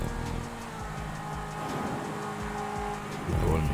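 Several cars in GTA V roar past and overtake, engines droning and revving with rising and falling pitch, growing louder near the end.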